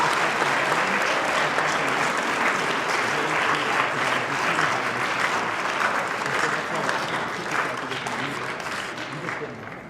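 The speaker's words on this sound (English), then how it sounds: "let's have one more round of applause for" Sustained applause from a crowd at a high school athlete signing ceremony, a dense steady clatter of many hands that fills the whole stretch and eases off slightly toward the end.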